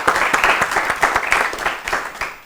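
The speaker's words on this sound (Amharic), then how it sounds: "ለሙሴም አጨብጭቡላት በደንብ አድርጋችሁ" Lively applause from a studio audience at a children's quiz show, with distinct individual claps popping through a broad wash of clapping that swells and eases slightly.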